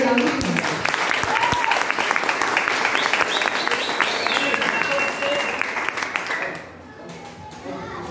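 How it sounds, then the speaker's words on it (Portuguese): Steady, dense applause from a large crowd in a hall at a fifteenth-birthday party, honoring the birthday girl's parents. Clapping stays loud and sustained with a voice over it, then drops off near the end. "Peço uma salva de palmas novamente para seus pais"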